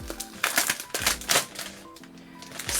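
A plastic packet holding scrapbooking dies crinkles and rustles in close, uneven bursts as it is handled and opened, with no speech over it.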